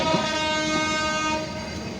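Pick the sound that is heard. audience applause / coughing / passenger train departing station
passenger train departing station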